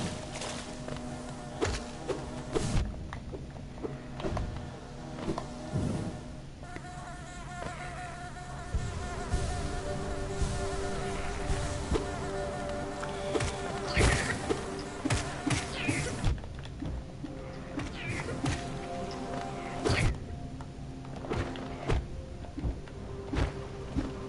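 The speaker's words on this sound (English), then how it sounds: "There's a lot of bees concentrated here." Bees buzz in the Hollow Knight video game, a persistent droning hum of several insects that swells and fades over a steady backdrop, with scattered clicks and taps from gameplay.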